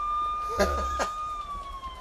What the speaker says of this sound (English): that's the holy crap siren